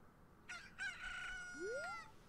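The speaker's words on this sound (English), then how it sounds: "the rooster in my pocket is forever crowing" A rooster crows once in the game Ocarina of Time, a faint, drawn-out cock-a-doodle-doo rising at the end over quiet background hiss.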